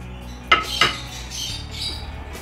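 A metal bowl moved aside in a kitchen: two sharp clinks in quick succession followed by a soft slide, close and otherwise quiet.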